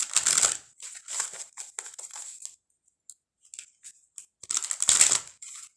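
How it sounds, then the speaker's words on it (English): Papery riffling and flicking bursts as tarot cards are shuffled, two busy stretches with a quieter pause of scattered taps between them, close up. "And I'm just going to shuffle a few more times."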